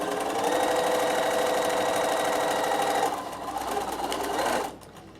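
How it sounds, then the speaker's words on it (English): Sewing machine running steadily as it stitches the last bit of binding, a fast even mechanical whir up close that drops in pace briefly, then stops. "just stitch that last little bit of binding on"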